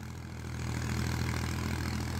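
A 23 to 24 year old 1999 model tractor engine runs steadily nearby, a low, even diesel-like drone with a faint knock that grows slightly louder after the first half second and then holds.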